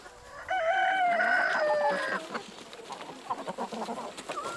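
At a free-range chicken farm at the foot of Jirisan, a rooster gives one loud, close crow lasting about two seconds. Softer, scattered hen clucks follow.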